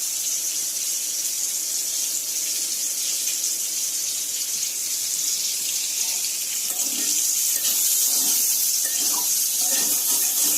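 Tap water runs steadily into a sink while leafy greens are washed, a constant close gushing stream with light splashing and handling noises toward the end.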